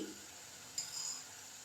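Tomatoes with turmeric powder cooking in a pan for tomato thokku, a faint steady sizzle with a soft scrape of stirring and a light clink partway through.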